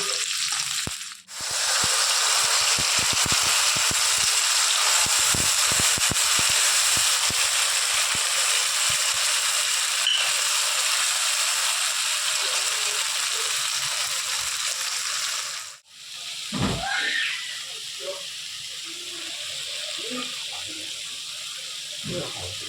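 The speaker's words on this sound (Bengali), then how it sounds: "এর মধ্যে বেটে রাখা মশলাটা দিয়ে দেব।" Ground spice paste frying in hot oil with bay leaves for a whole-garlic mutton curry, a loud, steady close sizzle lasting most of the stretch, briefly interrupted, then fading to quieter crackling and stirring; a voice speaks near the end.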